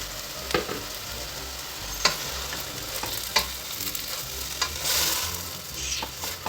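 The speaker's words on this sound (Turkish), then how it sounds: "Fasulyelerin rengi dönene kadar karıştırıp sonra suyunu ilave edeceğiz." Fresh green beans, about 600 grams, are stirred in a frying pan, with repeated scraping clacks of the spoon over a steady background sizzle, close and fairly loud, with no talking.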